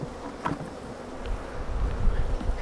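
Wild bees, a little smaller than most bees, buzz close by in a steady, wavering drone with a low rumble underneath, and nobody speaks.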